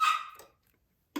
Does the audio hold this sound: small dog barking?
yes